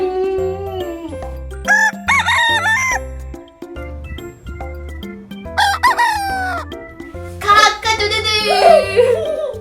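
A rooster crows cock-a-doodle-doo loudly several times in separate bursts over a steady musical backing, within a children's animal-sounds song. The crows may be a voice imitating the call.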